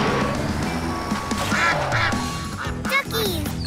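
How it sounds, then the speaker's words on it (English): Little cartoon ducks quacking repeatedly over background music, several bright quacks clustered in the middle and near the end. "Aw, those little ducks really like their new home."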